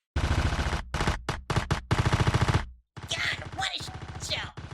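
Loud bursts of rapid machine gun fire from a helicopter crack out in short and long volleys, close and harsh, with whooshing swells between the later bursts.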